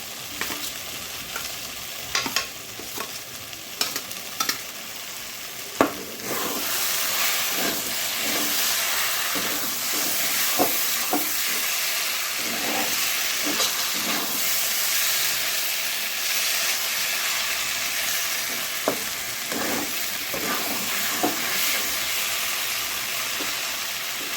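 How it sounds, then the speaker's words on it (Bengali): Chicken and carrot frying with spice masala in a pan, with a loud, continuous hiss and sizzle and steady stirring scrapes, preceded by a few seconds of quieter clinks before the heavy sizzle begins. "এই গাজরটা দিয়ে মশলা সুন্দর করে ভাজতে নিয়েছি"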